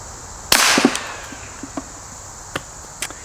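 A single CCI SGB round fired: one sharp, loud crack with a brief ringing tail, then a few faint clicks and taps scattered afterward in a quiet setting.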